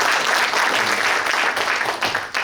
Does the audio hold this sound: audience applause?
yes